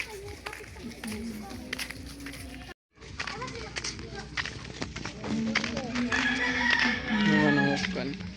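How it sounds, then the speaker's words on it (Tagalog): Chickens and a rooster cluck and crow at a rural spot, the calls rising and growing busier toward the end, with people talking over them throughout. "Manok."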